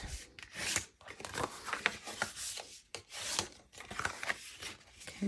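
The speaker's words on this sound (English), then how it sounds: "grab your bone folder and burnish those lines" Repeated rough rubbing strokes scrape back and forth across paper, close and rhythmic, with brief pauses between passes.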